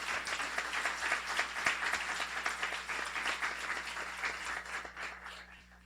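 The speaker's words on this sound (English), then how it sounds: "if you could give a warm round of applause for Harold Skolnick for sponsoring Baldwin" An audience at a guide dog graduation ceremony applauds a sponsor, dense sustained clapping from a crowd in a hall that holds steady and then thins slightly toward the end, with no talking.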